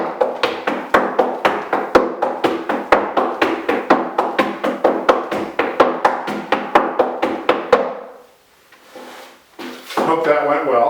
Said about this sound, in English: And here comes the heel scuff.